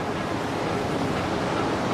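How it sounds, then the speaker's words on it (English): Typhoon-strength wind of about 130 km/h roars as dense, steady broadband rushing and buffeting against the microphone, loud and unbroken with no voices. "I mean, how windy is a typhoon?"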